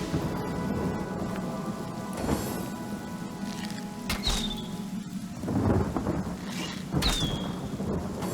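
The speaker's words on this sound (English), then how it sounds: "It never rains, but it pours, eh?" Steady rain pours in the Divinity: Original Sin video game, with rolling thunder claps building and fading over the continuous downpour and no speech.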